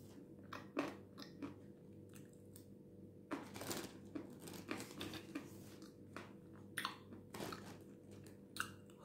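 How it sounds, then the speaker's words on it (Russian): Crunchy chewing and biting close to the mic during a mukbang, with irregular bursts of loud crisp crunches spread across the clip over a quiet background hum. "Хрустит хорошо."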